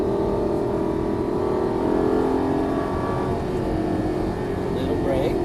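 Lamborghini Gallardo LP550 engine accelerating on a cone-marked driving course, a steady loud drone that holds level throughout, with an instructor's voice talking over it.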